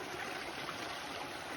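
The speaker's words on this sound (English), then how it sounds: "Another pretty stream." A brook along the Appalachian Trail rushes steadily, a soft broadband wash of flowing water, faint and even throughout with no voices.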